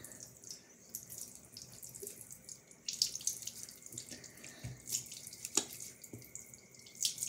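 Water runs from a bathroom tap during face washing at night, a quiet close splashing and trickling with occasional drips and sharper splashes.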